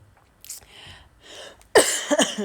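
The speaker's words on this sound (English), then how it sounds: "Sorry, I still have this cough a bit." A single sharp cough bursts out close by, followed by a second smaller one, after a stretch of quiet breathy sounds.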